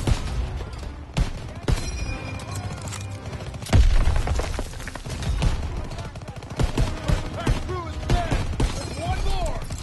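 Battle gunfire in Call of Duty: WW2, with dense bursts of rifle and machine-gun shots, loud booming impacts, and scattered near and distant firing running throughout, mixed with shouting voices.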